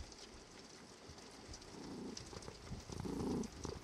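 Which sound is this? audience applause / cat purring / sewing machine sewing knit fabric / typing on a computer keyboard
cat purring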